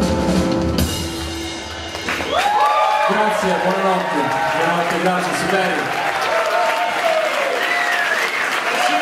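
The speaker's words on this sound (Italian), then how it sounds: "Un altro applauso, grazie ragazzi" A concert crowd at the 2015 LMA show applauds and cheers loudly and continuously for a band, with a voice and tonal sounds rising over the clapping after the first couple of seconds.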